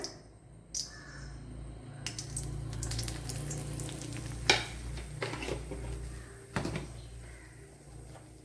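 Coriander powder dropped into a teaspoon of hot coconut oil in a pan for a quail egg curry, soft sizzling under clinks of a spoon and pan, with a few louder scrapes and knocks.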